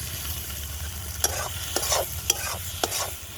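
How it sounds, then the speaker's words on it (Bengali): Shrimp frying with chili powder in a pan on a home stove, with a steady close sizzle and several short scrapes of a spatula stirring through the mix. "কেটে ধুয়ে রাখা চিংড়ি ঢেলে দেবো।"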